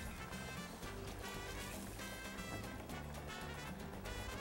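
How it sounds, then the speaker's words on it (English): Beer-battered jalapeno poppers sizzling in oil at about 325 to 350 degrees, a steady dense crackling hiss that holds at an even level throughout with no voices. "when you drop these in the oil, about 325 degrees to 350."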